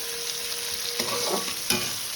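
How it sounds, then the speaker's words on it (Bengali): Onion fries in hot oil in a kadai with a steady, close sizzle, while a spoon stirs it in a few scraping strokes. "পেঁয়াজটা একটু নাড়িয়ে নেবো, নিয়ে একটু ভাজা হবে"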